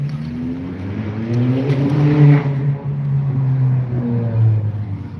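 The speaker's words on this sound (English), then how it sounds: "That happens to be a car." A car engine drones past nearby, its pitch rising and falling as it approaches and moves away, loud and steady throughout.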